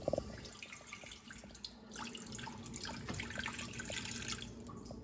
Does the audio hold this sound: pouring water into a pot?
yes